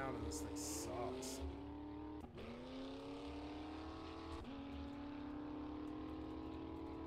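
A truck engine in the video game 7 Days To Die drones steadily, its pitch rising and falling as it shifts and revs, with talk over it.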